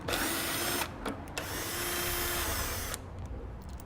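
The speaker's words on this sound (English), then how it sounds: "I'm going to be using a 10mm socket to remove those." Power tool spinning a 10mm socket to remove the bolts holding the radiator cover on a 2013 Ford Taurus, a loud, steady whirring drone broken by short pauses and then tapering off near the end.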